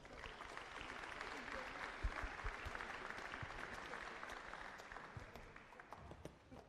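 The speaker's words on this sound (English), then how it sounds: "round of applause for the LBA" Sustained applause from the crowd fills a basketball grand final venue, a steady wash of clapping that holds for several seconds before easing slightly at the end.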